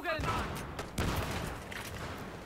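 Battlefield 3 firefight with an M320 grenade launcher and gunfire, a dense burst of shots and booms at the start and again midway, with faint talk underneath.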